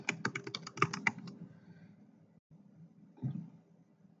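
Computer keyboard typing code, a quick run of close clicking keystrokes for about a second and a half, then a near-silent pause and one short burst of keys near the end.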